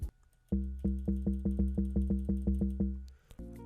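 A layered Amapiano log drum sample plays as a rhythmic run of about eleven deep, booming pitched hits with a woody knock at each attack, close and loud, after a brief soft lead-in and before a different tone at the end.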